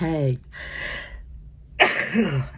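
A pair of short, sharp sneezes, the first breaking off abruptly and the second bursting out after a brief quiet pause, close to the microphone.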